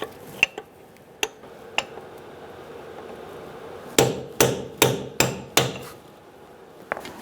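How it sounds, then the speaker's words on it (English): Metal hammer strikes on the lip of an axle nut of a 2014-2018 Subaru Forester front CV axle: a few scattered taps, then a quick run of five sharp blows, and one final tap, close and clear. "you're going to want to hammer in this little lip"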